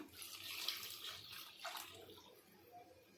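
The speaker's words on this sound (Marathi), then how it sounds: "मटकीचं पाणी टाकूया" Sprouted moth bean cooking water is poured into a pan of cooked masala for Kolhapuri misal, a soft splashing trickle with a brief gurgle, fairly quiet and close.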